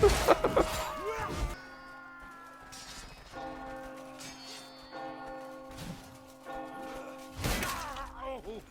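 Church bell tolling in the medieval combat game Chivalry 2, sustained ringing tones with long decaying overtones that sound several times in a row, between bursts of clashing noise, with voices talking over it.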